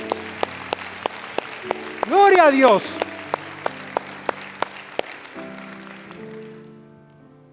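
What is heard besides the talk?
church congregation applause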